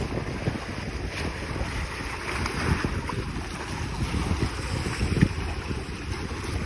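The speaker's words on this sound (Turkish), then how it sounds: "Çok fazla rüzgar var." Steady wind buffets the microphone in a low, rumbling roar that runs the whole time during shore fishing, with water and boat noise mixed underneath.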